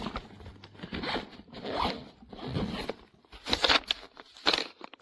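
A zipper on a TUGUAN 28L insulated backpack cooler is pulled closed in several close, raspy strokes of varying length, with short pauses between them and no speech.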